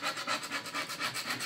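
A scraper drags back and forth across a reusable chalk board, scraping off chalk in a steady rasping rhythm of about eight strokes, close and continuous with no voices.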